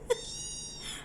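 A cat gives a short, close meow with a small tap just before it, alone in a quiet room.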